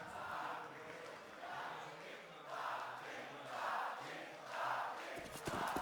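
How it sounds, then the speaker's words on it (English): An esports arena crowd at a Counter-Strike semi-final between Navi and FaZe on the Train map roars in repeated swelling waves, a broad, distant-sounding wash of voices that rises and falls several times. "Crowd comes to life. You can hear them roaring in the background."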